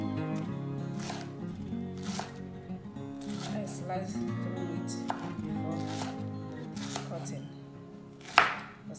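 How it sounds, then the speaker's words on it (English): A knife chops washed okra on a board for Nigerian seafood okra soup, giving a steady series of crisp, close cuts at a moderate pace, with a sharper scrape near the end. "So our okra is washed and it's time to cut it."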